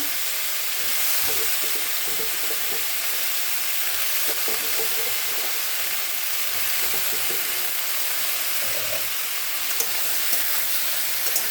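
Sliced ridge gourd, salted beforehand so it gives off water, sizzles steadily in a pan on the stove, a continuous broadband frying hiss with occasional soft stirring clinks, close and fairly loud throughout.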